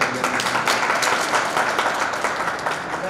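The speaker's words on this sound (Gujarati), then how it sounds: "આવો જોરદાર તાળીઓથી સ્વાગત" At a Buddha Jayanti festival in Sitana, a crowd gives strong, continuous applause to welcome a speaker onto the stage, dense and even throughout with no voices on top.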